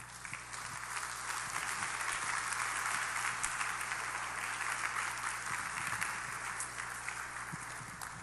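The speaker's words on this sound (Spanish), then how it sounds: "Dele un aplauso al Señor." Steady applause from a church congregation, sustained at an even moderate level for several seconds with scattered louder claps and no talk over it.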